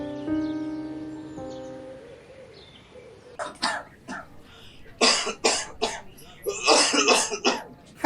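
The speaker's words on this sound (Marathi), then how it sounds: "काय 15 दिवसापासून खोकलून राहिला" A man coughs repeatedly in harsh, hacking bursts, a persistent cough of over two weeks suspected to be tuberculosis; the fits come close and loud in clustered rhythm after a quiet opening with a sustained musical tone.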